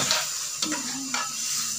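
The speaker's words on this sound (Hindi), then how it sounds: "अब चमचे को हिलाते जाएंगे।" A spoon stirs pumpkin halwa frying in a pan, village style, with a steady close sizzle and a few soft scraping strokes of the spoon through the mixture.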